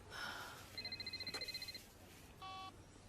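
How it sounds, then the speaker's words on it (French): Mobile phone ringing in a quiet room, a short electronic pulsing ring followed by a brief steady tone, moderately loud against faint background hiss. "C'est mon téléphone."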